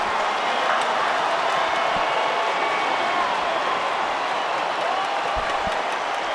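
Stadium crowd at Hard Rock roaring after a touchdown in a Middle Tennessee–Miami college football game, a dense, sustained wall of cheering from a large distant crowd with no clear break.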